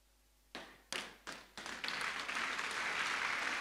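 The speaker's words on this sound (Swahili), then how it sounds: "Sasa wamepiga makofi wachache" A church congregation claps during a sermon, starting with a few separate, fairly faint claps that build into sustained applause.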